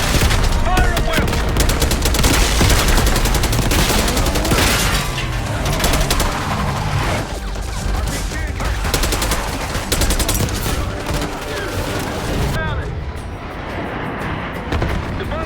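Dense, loud gunfire in the Call of Duty: Black Ops 6 campaign: sustained automatic bursts and booming shots overlap continuously, with shouted voices mixed in beneath the barrage.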